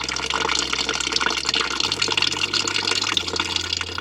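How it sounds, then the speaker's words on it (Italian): Water runs from the open boiler drain tap of a Fiat Ducato camper van conversion, pouring through a small tube and drain valve to the outside as a steady, close gushing flow with a low pump-like hum underneath. "abbiamo aperto il rubinetto e l'acqua viene giù"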